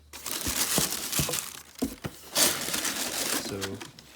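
Sticker wrap being peeled and crinkled inside a Converse Chuck Taylor shoe box, with close, continuous crinkling and tearing rustles and sharp plastic crackles throughout.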